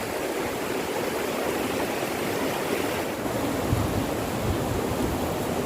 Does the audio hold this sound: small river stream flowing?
yes